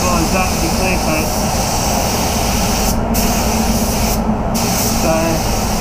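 Spray gun laying down a Liquid Glass clear coat reduced with 5% reducer on a Mazda CX-9, a steady loud hiss of atomizing paint broken by two brief pauses in the spray.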